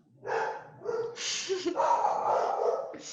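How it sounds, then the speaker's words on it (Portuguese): Several dogs barking and yipping indoors at close range, a burst of sharp overlapping barks continuing for a few seconds, loud and persistent, with no talk over them. "meus cachorros estão dando pau"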